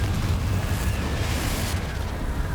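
A Confringo fire spell from the game Hogwarts Legacy explodes with a dull, rumbling roar that stays broad and sustained for a couple of seconds at moderate loudness, with no talking.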